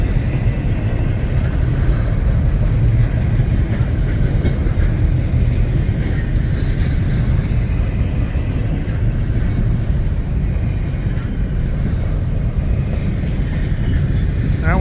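A Norfolk Southern intermodal freight train rumbles past on the main line, a loud, steady low roar of rolling railcars that holds for the whole stretch, with faint wheel clatter and no one talking.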